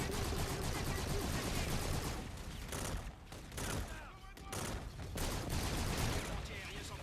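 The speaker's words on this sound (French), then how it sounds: "Les anti-aériens s'en prennent au local." Anti-aircraft guns fire in a Call of Duty: Infinite Warfare battle, a dense, loud fusillade of rapid gunshots that runs through the whole stretch, with game voices and effects mixed in.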